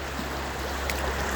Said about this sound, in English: This is the Farmington River, in between Unionville and Farmington